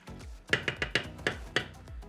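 Onions, jalapenos, garlic and water are stirred together in a pan for a breakfast tostada, giving a series of about seven sharp, close metallic scrapes and clinks in an uneven rhythm with no talking.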